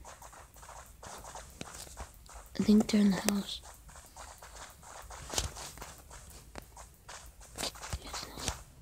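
Footsteps in the battle royale game Rules of Survival patter steadily at moderate distance, with a soft voice speaking briefly over them partway through.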